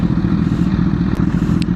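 Honda CBR1000RR SC77 sport bike engine holding a steady, loud low drone throughout, heard continuously as the rider downshifts during a test ride, with a few faint clicks above the rumble.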